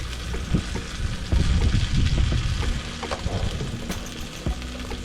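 Risotto frying in a small cast iron pan gives a soft, uneven sizzle with scattered crackles and clicks of stirring, mixed with a low wind rumble across the microphone.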